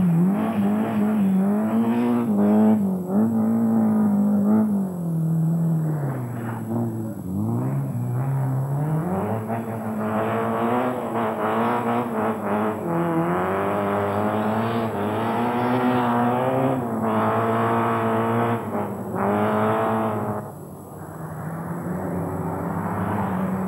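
Peugeot 205 1.6 rally car competing in the Class 6 field of the 1990 Lombard RAC Rally, its engine droning steadily and close, with the pitch rising and falling through gear changes across the whole stretch, and no voices heard.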